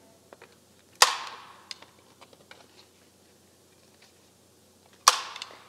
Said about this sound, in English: I'm going to staple it again.